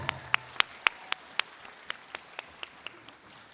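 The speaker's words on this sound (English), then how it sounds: "I'd just like to give one more big round of applause to all our graduating students" Applause for graduating students on stage at an education centre graduation ceremony, sounding as a sparse, fading patter of individual claps, about a dozen distinct hand claps spaced irregularly and tapering off, fairly distant in a large room.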